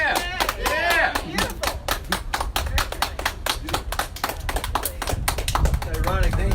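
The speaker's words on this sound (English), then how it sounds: "That's a good clap." A small live music venue audience claps in a dense, steady burst of applause, with cheering voices mixed in.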